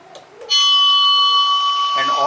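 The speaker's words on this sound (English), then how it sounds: "all the bell sounds will play one by one for a short period" An electronic school bell controller playing a test tone: a loud, steady electronic ring with pure sustained pitches, starting abruptly after a short voice and shifting to a different tone near the end.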